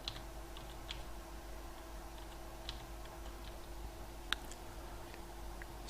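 Faint, scattered clicks of typing on a computer keyboard, a few separate keystrokes over a steady low hum in a quiet room.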